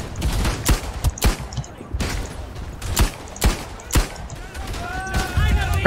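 Gunfire in the World War I shooter Verdun: loud, close single rifle shots crack out roughly every half second to second, with battlefield noise underneath and a voice speaking now and then.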